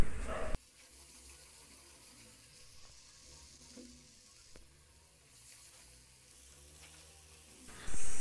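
Onion and spice paste sizzling and frying in a pan over a medium gas flame for a Bengali prawn curry, a steady low crackle with brief louder bursts at the start and end.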